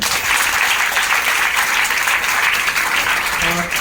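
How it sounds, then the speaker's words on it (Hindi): Loud, sustained applause from a large crowd at a direct-selling motivational event, dense and continuous clapping throughout with no pauses. "मैं चाहूँगा मेरे शैलेश सर के लिए प्लीज एक जोरदार ताली"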